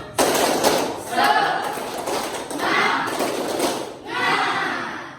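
A class stands and performs a rhythmic group clap in several loud bursts, sharp, dense volleys of many hands separated by brief dips, with children's voices chanting along.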